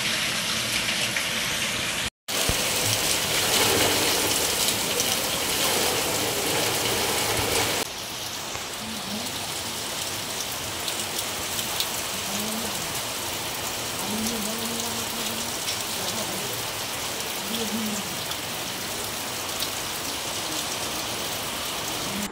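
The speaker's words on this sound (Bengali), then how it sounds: "তো চলো তোমরা বৃষ্টিটা এবার দেখো যে কী পরিমাণে হচ্ছে" Heavy rain pours steadily outdoors near houses, a dense loud hiss on surfaces throughout with a brief dropout early on and no talking.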